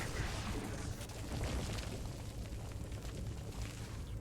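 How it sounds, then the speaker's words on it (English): A cannon shot booms on the StarCraft map Death Fortress, a muffled, rumbling explosion with a dense low roar that lingers throughout, fairly faint in the mix. "Was that one of those cannons that supposedly can be dodged?"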